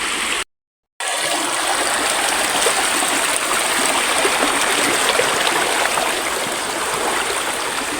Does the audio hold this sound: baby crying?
no